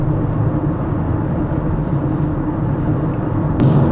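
Inside a Fiat Grande Panda accelerating onto an expressway, a steady low engine and road rumble fills the cabin, loud and continuous with little change, plus a brief higher noise near the end.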